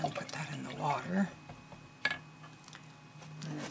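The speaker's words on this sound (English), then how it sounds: "And again, put that in the water." A paintbrush swishes and drips as it is rinsed in a water pot during an art journal session, liquid splashes and trickles heard under a person's talking.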